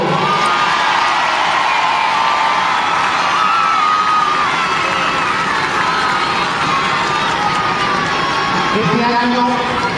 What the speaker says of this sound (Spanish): Vamos a recibirles con un fuerte aplauso y un fuerte abrazo.